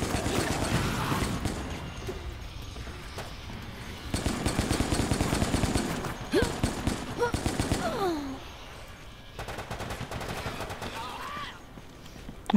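Gunfire and explosive bursts from a grenade fight in the video game Resident Evil: Operation Raccoon City, with dense rattling volleys in loud stretches separated by brief lulls, under occasional talk.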